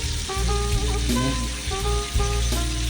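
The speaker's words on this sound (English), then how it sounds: "Now drop 2 pieces of chicken breast into this frying" Two pieces of chicken breast sizzle in butter in a frying pan, a steady close crackle and hiss that continues throughout, with music playing underneath.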